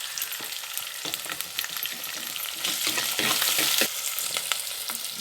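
Vegetables sauté with a pinch of salt in a pan for a Navadhanya kuzhambu, giving a steady close sizzle with scattered stirring scrapes and clinks that swell slightly louder toward the end, no talking.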